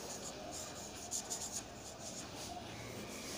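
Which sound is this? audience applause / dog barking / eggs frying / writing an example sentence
writing an example sentence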